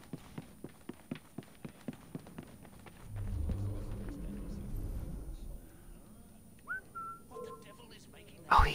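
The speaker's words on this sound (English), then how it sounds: "What is that noise? It sounds like a whistling person." A person whistles a short, faint melody in the video game Assassin's Creed Syndicate, heard near the end amid soft footsteps, a low rumble and quiet game ambience.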